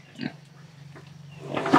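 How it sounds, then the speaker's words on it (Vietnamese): A fat sow on a small farm grunts twice, a short snort early and louder rising grunts near the end, close by over a steady low hum. "Ô con lợn béo nhanh nhỉ?"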